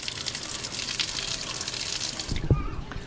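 Water gushes steadily from a hose fed by a 12-volt SEAFLO 55-Series diaphragm pump, a continuous broad hiss and splash close by, with a brief clunk near the end as the flow cuts off.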